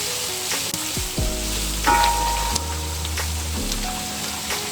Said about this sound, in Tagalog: ginigisa ko na yung mga ingredients